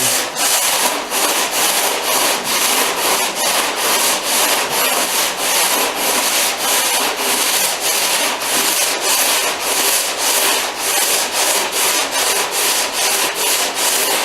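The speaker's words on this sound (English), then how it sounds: "Some new 80 grit on there, and I'm just going to go kind of long block this whole thing." Hand sanding a vintage car fender with 80-grit paper on a long block, loud close rhythmic rasping strokes repeating steadily back and forth without pause or talk.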